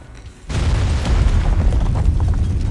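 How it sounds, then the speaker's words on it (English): Reverse 1999 scene with a bomb detonating in a chapel, a sudden loud blast followed by a sustained heavy rumble of the building crumbling, no speech. "After a loud bang, the chapel starts to crumble."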